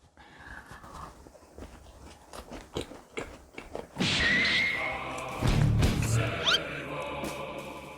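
Bites and chewing of a green tea tart, close and crunchy, with soft mouth sounds building to louder crunches midway and a brief sharp scrape near the end.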